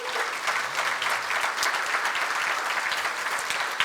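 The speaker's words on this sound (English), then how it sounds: "let's give them a big round of applause" An audience at a community forum celebrating immigrants in Marin gives a sustained round of applause, dense clapping that holds steady for several seconds without a break, fairly close and full.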